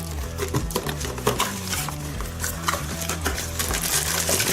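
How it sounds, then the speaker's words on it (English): Knife slicing through tape and cardboard to open a box of Birdie retro lights, with repeated close scratchy cuts, rustling packaging and soft taps, with no talk. "I'll unbox this one. Being very careful with the knife here so I don't cut myself or damage anything inside."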